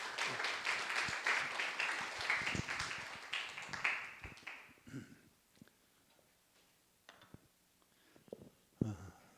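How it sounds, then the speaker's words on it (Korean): A church congregation at an autumn revival service applauds in praise, a dense burst of many hands for about five seconds that thins to scattered claps and taps. "같이 한번 하나님 앞에 영광의 박수, 감사의 박수 하겠습니다"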